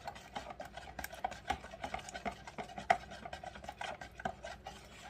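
Melted soap mixture is stirred in a container, producing a soft, quiet run of irregular scraping and tapping strokes that repeat rapidly throughout, with no voices.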